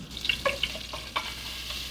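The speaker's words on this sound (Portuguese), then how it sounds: "Aqui na panela eu vou colocar 50 gramas de margarina." Margarine, about 50 grams, melting in a pan, with soft sizzling and scattered sharp crackles and pops, close and fairly quiet, no talk.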